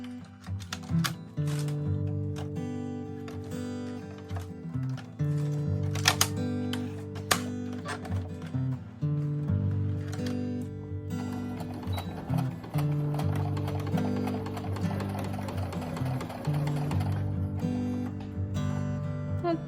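A sewing machine stitches a line on a handmade wallet, its needle pounding in rapid, steady bursts close up, pausing briefly between runs.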